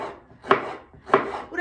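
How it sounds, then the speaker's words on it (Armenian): Knife chopping vegetables such as onion and peppers on a cutting board while preparing a quinoa salad, two distinct close chops spaced about half a second apart with no talk. "ես պետք է կտրատեմ այս ամեն ինչը"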